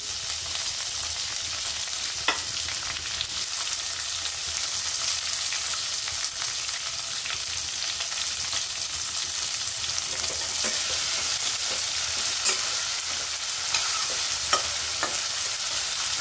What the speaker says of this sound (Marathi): थोडंसं लसण आपण परतून घेऊ। टोमॅटो टाकू,